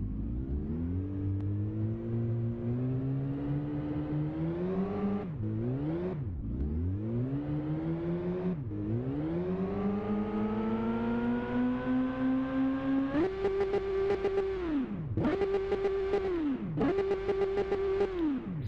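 A tuned 2002 Yamaha R1 motorcycle engine revs repeatedly, climbing and dropping in sharp bursts, then hits a steady high-rpm limiter buzz several times, loud and close with no talk.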